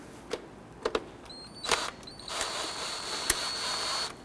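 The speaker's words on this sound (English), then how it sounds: "On our air intake tube, we want to go ahead and loosen up this clamp right here." A 10 mm hose clamp on the air intake tube of a Honda Ridgeline is loosened, giving scattered faint metallic clicks and brief ratcheting tool sounds, close by and quiet.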